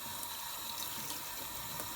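Tap water runs steadily while blender parts are rinsed under it, a soft continuous hiss and splatter, close and faint, with no talk.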